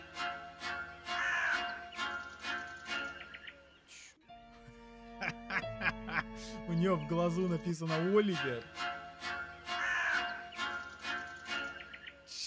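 A crow in the game Midnight Scenes: The Nanny caws in repeated harsh calls, near and loud, alternating with someone talking over it.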